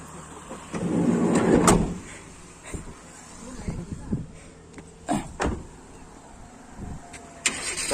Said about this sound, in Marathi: आता आम्ही या गाडीत चाललोय, इको गाडीत